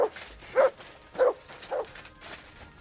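Dog barking in the video game Kingdom Come Deliverance 2, four short muffled barks spaced about half a second apart, moderately close, with quiet game ambience between them.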